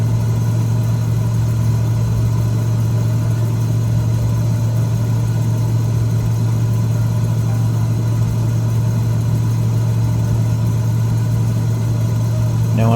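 A single-engine Cessna 206 piston engine in a flight simulator hums as a steady, even drone with a strong low tone and little variation, continuous throughout.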